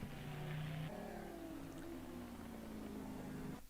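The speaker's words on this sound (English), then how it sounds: "And the car doesn't sound all that happy, I guess, at the moment." Touring car in the ATCC series at Newcastle, running a higher gear through bends while sounding unwell, gives a distant, rough engine drone that shifts pitch as it works through the corners, faint and continuous.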